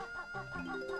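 Cartoonish chickens cluck in an Ocarina of Time-style stage of a Banjo-Kazooie N64 game mod, with short bird calls mixed into tuneful background music.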